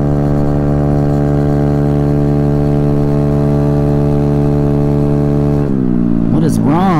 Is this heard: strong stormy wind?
no